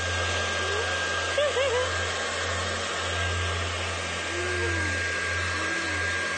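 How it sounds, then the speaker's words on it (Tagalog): A hair dryer blowing hair drones steadily and close for the whole stretch, a constant whirring airflow with faint voice-like murmurs drifting over it. "Nagbo-blower daw siya ng buhok kasama ang kanyang anak"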